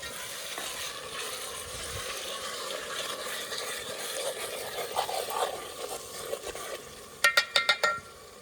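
Spices temper in hot oil for a Gujarati vaghar in a village kitchen, a soft sizzling hiss building mid-clip and ending in a quick burst of sharp crackles and spatters.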